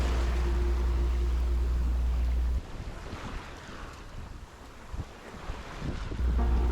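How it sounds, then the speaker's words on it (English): Wind and waves aboard a sailboat under sail with no engine, on a coastal passage from Fort Lauderdale to Fort Pierce: a steady rush of wind buffeting the microphone over splashing water, easing midway, then rising again. "Nothing better than sailing, just the sound of the wind and the waves,"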